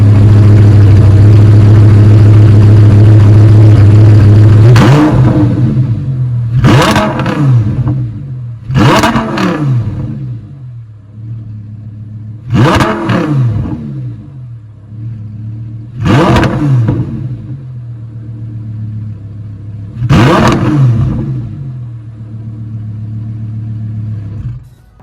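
An Audi R8 V10 sports car engine idles low, then roars through six sharp revs in quick bursts, each falling back to a rumbling idle, loud and close.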